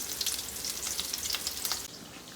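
Burgers fry in a hot pan with a close, crackling sizzle and dense popping of grease, holding steady before easing off near the end.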